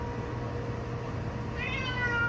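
A 7-kilogram British Shorthair cat meows inside a 65-liter automatic pet hair dryer box, a short rising meow near the end over a steady low machine hum.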